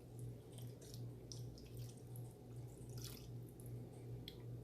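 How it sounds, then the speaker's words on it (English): Water trickles and drips into a pot of mango curry, a soft steady pour over a low rhythmic hum from the kitchen, quiet and close with no talk. "With that I am going to add little bit of water for cooking."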